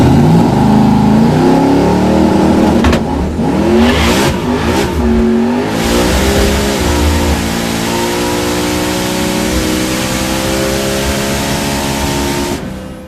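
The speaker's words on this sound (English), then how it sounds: "I'm spinning the tires for, I don't know, too much." LS V8-swapped Mazda RX-7 drag car with its tires spinning on launch, the engine roaring loud and close as revs climb and waver in strained bursts, with no talk.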